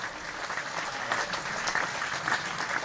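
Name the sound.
cricket crowd applauding a boundary drive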